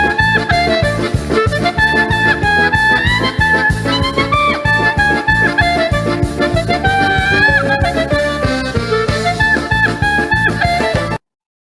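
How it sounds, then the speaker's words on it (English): Clarinet plays lively klezmer music over a full, steady ensemble backing with a rhythmic pulse, loud and continuous with no talking. "The clarinet is a woodwind instrument that uses a reed."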